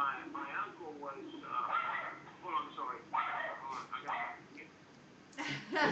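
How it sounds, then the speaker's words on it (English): A dog barks and yips repeatedly, with whiny whimpers between the barks, close to the microphone. A person talks over it on a phone recording. "I'm here, but my dog is barking."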